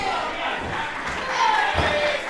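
Live crowd at an IWN Z Force wrestling show, a loud sustained roar of cheering and shouting that swells toward the end, with a thud near the close.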